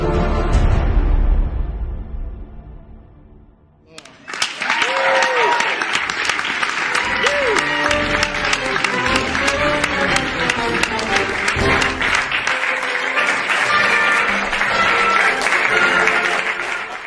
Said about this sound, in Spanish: Aplauden a Biden por firmar la ley.